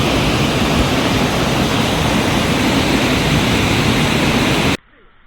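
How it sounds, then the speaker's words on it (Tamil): Rushing water of Monkey Falls (Kavi Aruvi) near Valparai roars as a loud, steady broadband torrent, close and continuous, then cuts off abruptly near the end. "குரங்கருவிலேருந்து பயங்கர ஸ்பீடாக வந்துக்கிட்டு இருக்குது தண்ணி"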